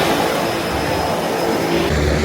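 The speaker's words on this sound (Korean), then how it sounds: "수상 비행기 간다" Seaplane taking off beside a dock in the Maldives, a loud, steady propeller and engine roar filling the whole stretch with no letup.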